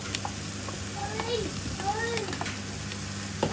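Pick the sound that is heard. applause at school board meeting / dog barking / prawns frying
prawns frying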